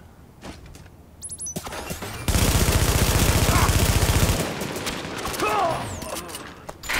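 A machine gun turret in The Division fires a rapid, steady burst of automatic shots lasting about two seconds, loud and close, set among other game sounds and clatter.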